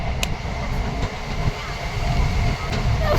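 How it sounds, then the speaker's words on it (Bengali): A train rolls into a station at close range, giving off a steady rumble with faint clanks and a high squeal near the end. "এখানে একটা ট্রেন দেখো ঢুকছে।"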